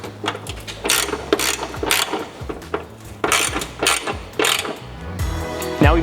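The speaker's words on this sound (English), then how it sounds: "And then we just use our 12 mil to tighten her up." A 12 mm ratchet tightens a hood strut stud on a 2004-08 Subaru Forester XT, giving quick bursts of metallic clicking in an uneven rhythm, close up, with a few light clanks of metal between strokes.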